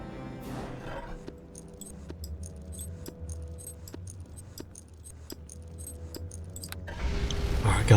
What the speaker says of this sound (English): This puzzle has 7 locks waiting for the correct keys to insert.